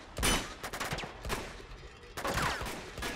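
Gunfire bursts in the video game Uncharted 2: Among Thieves, a few sharp shots and short volleys spaced across a few seconds at moderate loudness, with a quieter stretch in between.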